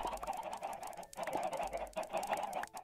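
Chickens cluck in Minecraft, a continuous run of overlapping in-game clucks and squawks at moderate level with no talk.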